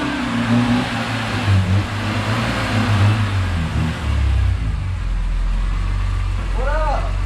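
A BMW S54 engine revs and rumbles nearby, rising and falling in pitch, with voices talking over it and a short whistle-like tone near the end.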